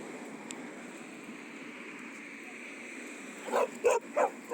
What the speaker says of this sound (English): she's going back to barking and lunging a lot